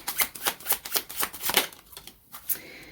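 A deck of playing cards is handled and shuffled nearby, with a quick run of crisp riffling flicks that slows into a few scattered snaps.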